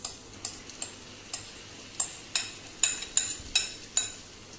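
Savoury pancake batter with onions and peppers cooks in a pan, giving a faint, quiet sizzle with a series of sharp ticking pops at irregular intervals.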